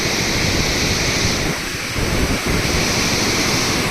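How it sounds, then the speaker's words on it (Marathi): The Ghod river in full flood rushes past the Baradi dam near Nirgudsar, making a loud, continuous roar of water heard up close with a brief dip in the noise. "पूर्ण घोडनदी दुथडी भरून वाहत आहे"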